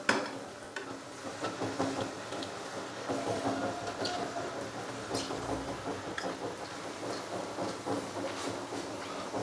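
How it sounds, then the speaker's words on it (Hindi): Boiled rice tumbles into a hot pan of sautéed cabbage and is stir-fried, with steady sizzling and the scrape and clatter of a spatula stirring throughout, close and uninterrupted by speech. "फिर हम इसके अंदर बॉईल किए हुए चावल डाल देंगे"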